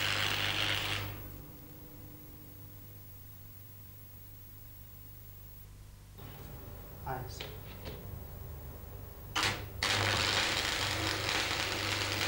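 Manual metal arc stick welding gives a loud crackling hiss at the start and end, with a quieter stretch between that holds a few clanks and taps.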